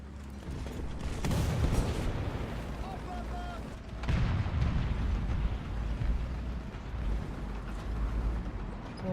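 Booming cannon fire and explosions from a naval combat video game, a heavy blast near the start and another around the four-second mark over a dense rumbling battle din, with someone talking throughout.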